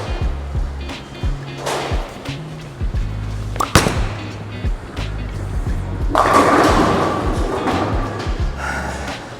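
A bowling ball thrown at a bowling alley rolls down the lane with a low, steady rumble, set among sharp thumps and a busy, echoing crowd of pins and other bowlers nearby.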